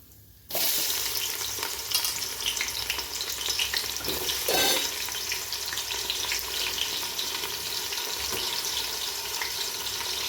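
Onions sizzle steadily in a hot pan of spiced oil while a vegetable kuska is cooked, the frying starting abruptly and continuing close and even, with occasional stirring scrapes and no talking.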